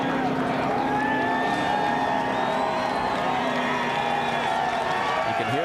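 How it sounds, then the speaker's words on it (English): Large racetrack crowd roaring after Kyle Busch's NASCAR Nationwide Series win at Dover in 2010, a dense sustained wash of cheering and whoops with some boos, heard from a distance with talk over it. "You can hear the crowd."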